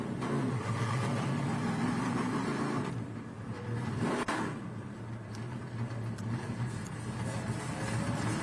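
Trans Am Series race cars at VIRginia International Raceway heading back along pit road, engines droning and revving loudly nearby with a brief dip before rising again.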